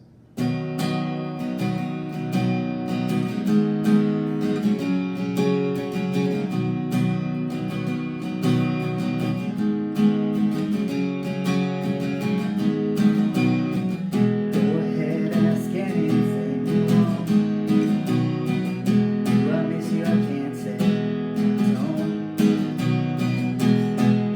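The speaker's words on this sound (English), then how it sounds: "So if I wanted to strum these chords out, it would sound like this." Acoustic guitar strumming the chords of a song with steady rhythmic strokes, close and clear, with no voices.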